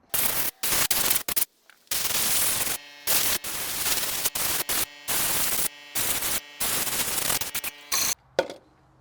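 Compressed air blasts onto an inner and outer lawn mower air filter in loud, hissing bursts of varying length, separated by short silent gaps, with a sharp final puff at the end.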